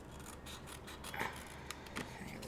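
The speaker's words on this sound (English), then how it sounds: "Now, I do have to take my snips" Craft snips cutting through a paper tree shape, a few soft crisp snips and rubbing paper sounds close up over a constant background hiss, with no talking.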